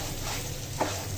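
Onions frying in oil in a pot for biryani: a steady, close sizzle with a brief stirring scrape near the end.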